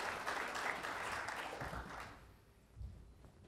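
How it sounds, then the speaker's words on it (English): An audience claps for Byron Holland at the 2013 Canadian Internet Forum in Montréal, a steady round of applause that fades after about two seconds into quiet room noise. "A little hand of applause for Mr. Byron."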